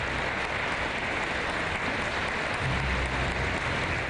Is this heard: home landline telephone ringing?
no